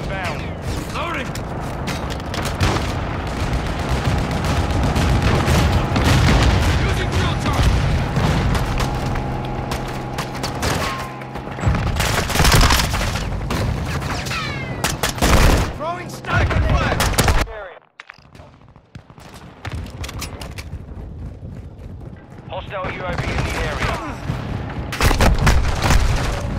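Gunfire and explosions in Call of Duty Modern Warfare II: repeated loud shots and booming blasts with mechanical clatter and game voices mixed in, a brief near-silent gap, then the fighting starting again.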